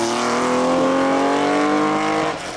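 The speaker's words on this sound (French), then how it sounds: "sur cette Renault 5 Turbo, alors qu'on vient de voir un magnifique passage" A Renault 5 Turbo race car roars past at a hillclimb, its loud engine note holding steady and then falling away as it moves off.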